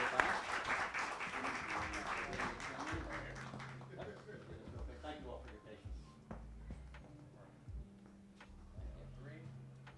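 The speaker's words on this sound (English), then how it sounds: "Let's give her a round of applause." A short burst of applause rises at the start and fades out, followed by scattered claps and a voice talking over it.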